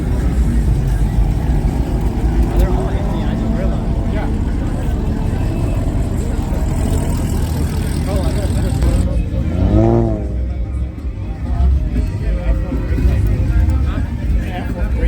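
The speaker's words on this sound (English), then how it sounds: "This Z06 sounds amazing, by the way." A Corvette Z06 engine rumbles steadily at idle at close range at a car meet, with a brief rising rev near the end, amid background voices.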